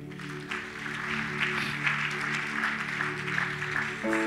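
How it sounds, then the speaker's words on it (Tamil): A church congregation at a pastor's sermon applauds, giving soft, steady, somewhat distant clapping over a sustained musical drone from a keyboard or organ. "கைத்தட்டு, கைத்தட்டு."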